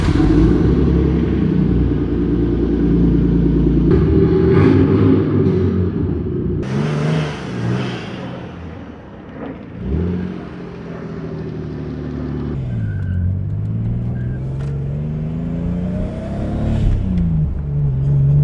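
A tuned fourth-generation Toyota Supra MK4 with its turbocharged 2JZ-GTE engine revs while driving on the road, loud and close, with rising and falling pulls and gear changes under a steady rumble.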